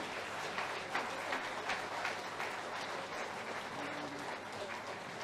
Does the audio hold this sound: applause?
yes